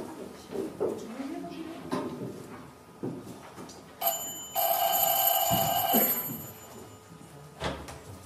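A mobile phone rings in a theatre during a courtroom play, a loud electronic tone that starts abruptly midway, runs about two seconds and stops, with actors talking before and after.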